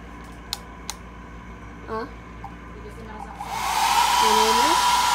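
A hair dryer switches on partway through and keeps blowing with a loud, steady whoosh, after a few faint clicks and a brief voice.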